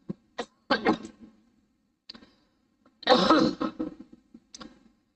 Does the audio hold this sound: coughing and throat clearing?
yes